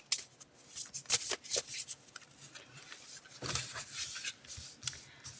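Tarot cards are shuffled by hand up close, in quick papery riffling bursts with short pauses between them, fairly soft and heard alone.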